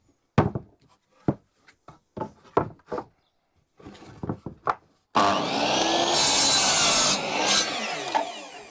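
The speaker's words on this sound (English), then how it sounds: "we have done some table sawing and some chop sawing" Several sharp knocks and clatters of scrap wood being handled, then a table saw roars loudly ripping through a board for a few seconds.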